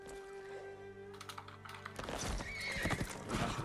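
A horse in the video game Ghost of Tsushima whinnies loudly over clopping hooves and game ambience, with the sound growing fuller and busier toward the end.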